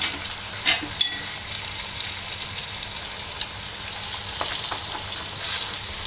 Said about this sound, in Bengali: আমি ডিম 3টা এখন দিয়ে দেব।